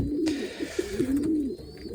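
Young pigeons coo in soft, low, rolling calls, close by, over a steady hum of background noise.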